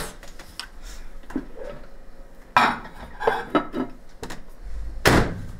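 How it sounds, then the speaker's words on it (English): Food being put into a microwave and its door shut, heard as close clattering of a plate and dishes followed by a firm thud of the door near the end. "Now let's pop that into the microwave."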